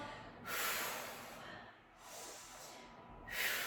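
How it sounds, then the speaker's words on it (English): Heavy, forceful breaths during an abs and arms workout: three loud, noisy exhales in a steady rhythm, close to the mic with no talking. "Breathing nice and strong."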